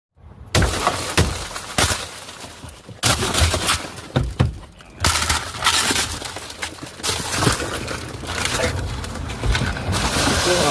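A police officer smashes a car window during a traffic stop, sharp glass-breaking impacts and crunching shatter repeated through a noisy, loud stretch, with a few bursts separated by brief gaps.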